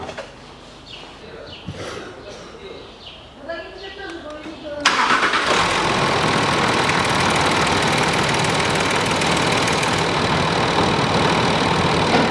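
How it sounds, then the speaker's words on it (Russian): A Land Rover Discovery 4 engine cranks and catches after an oil change, then settles into a steady loud idle that continues; a person speaks briefly before it starts. "Закрываю пробку, запускаю двигатель."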